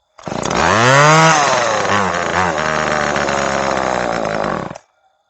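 A gray vintage Homelite XL chainsaw with a replaced fuel line revs up loudly on choke, its two-stroke engine buzzing and wavering in pitch for about four seconds before cutting out abruptly.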